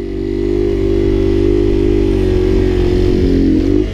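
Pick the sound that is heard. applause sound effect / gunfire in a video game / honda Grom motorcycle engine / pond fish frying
honda Grom motorcycle engine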